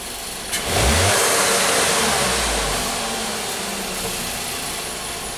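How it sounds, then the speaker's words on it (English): A 2014 VW Jetta GDI turbo engine with an intermittent misfire and low power takes a sharp snap of throttle, its revs jumping loud and then falling back to a steady idle, close-up with no talk. "Do that again, a couple, snap throttle."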